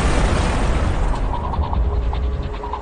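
A blast set off to break open the grille of a prison's second perimeter wall: a loud, dense roar of broadband noise that holds steady for nearly three seconds with heavy low-end rumble, with no voices.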